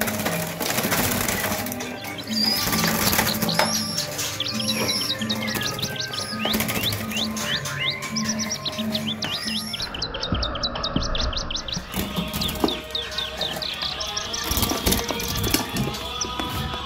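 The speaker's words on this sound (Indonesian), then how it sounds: "Wah, ini ribuan burung di sini yang harus ditangani." Thousands of calandra larks at a bird market chirp and trill continuously in a loud, dense chorus, with overlapping rapid calls and occasional mechanical rattles nearby.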